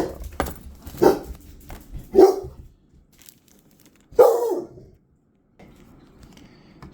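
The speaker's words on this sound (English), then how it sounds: "So sorry about the dog there." A dog barks three times indoors, loud sharp single barks spaced about a second apart, with quiet handling noise in between and no speech.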